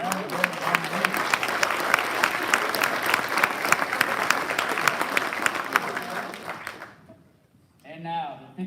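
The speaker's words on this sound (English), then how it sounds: "Let's have another round of applause for all of our non-commissioned officers category nominees." A military awards ceremony audience applauds the non-commissioned officer category nominees at a 52nd Fighter Wing quarterly event: steady, dense clapping for about seven seconds that then stops abruptly, after which a voice begins speaking.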